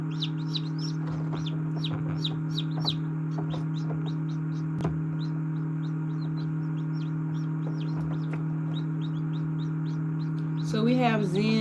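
Black Copper Marans chickens, large full-bodied hens, cluck and chirp repeatedly at moderate distance over a steady low mechanical hum, with a brief burst of talk near the end.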